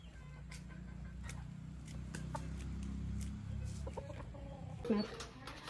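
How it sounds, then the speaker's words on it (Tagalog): Chickens cluck in short, scattered calls over a steady low background hum, with a slightly louder cluck near the end. "So, mga manok na lang yung marami."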